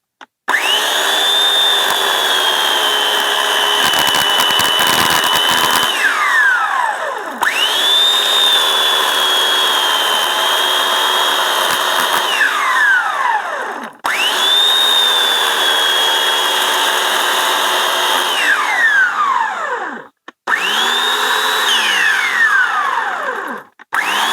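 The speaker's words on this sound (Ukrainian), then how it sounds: "Ось як бачимо, пила працює, все добре, ріже добре." A TOP CRAFT electric chainsaw, back in service after a repair for a slipping chain, runs loud and steady in several long bursts, cutting out briefly between each run and spinning down at the end.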